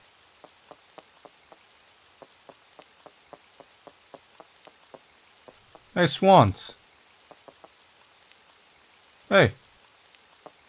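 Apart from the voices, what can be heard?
rain in the video game Pocket Mirror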